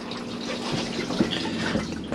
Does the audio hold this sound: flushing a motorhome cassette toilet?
yes